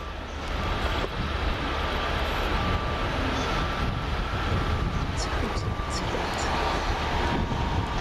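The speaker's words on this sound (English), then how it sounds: "the 1012 Arriva Trains Welsh service from Maesteg to Cheltenham Spa" Arriva Trains Wales passenger service from Maesteg to Cheltenham Spa passing on the far side of a station, a steady rumbling wheel-and-engine drone with wind buffeting the microphone throughout.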